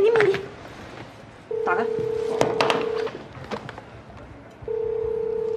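A telephone on speakerphone gives two long, steady ringing tones separated by a pause, close and clear, while people talk briefly around it.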